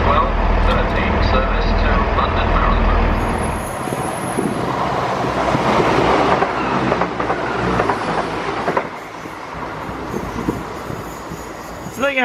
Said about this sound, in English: The Parliamentary train has headed back towards Marylebone to get into normal service again